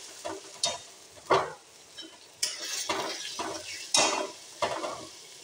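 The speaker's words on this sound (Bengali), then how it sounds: "মশলাটা ভালো করে কষিয়ে দেবো।" Spices and tomato puree stir-fried in a pan, with a row of scraping spatula strokes over a low sizzle, close and fairly quiet, no voices.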